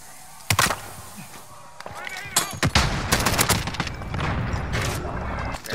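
Bursts of gunfire in a squad shooter game crack out in loud, irregular volleys, with rapid automatic strings and a sustained clatter toward the end, mixed with voices talking.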